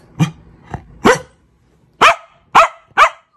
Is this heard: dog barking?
yes